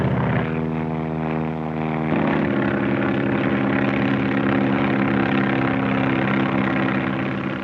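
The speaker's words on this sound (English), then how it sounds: "the planes have to be strong, yet capable of a cruising speed of over 120 miles an hour." Propeller skywriting airplanes in 1935 drone steadily overhead, a loud continuous engine hum whose pitch shifts partway through as the aircraft pass and turn, with no talking.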